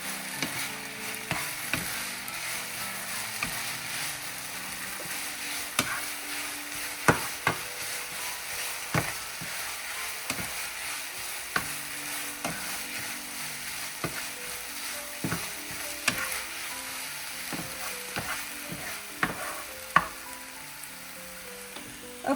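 Instant ramen noodles sizzle and crackle steadily in a hot frying pan while being stirred, with irregular scraping and clinking of a utensil against the pan throughout.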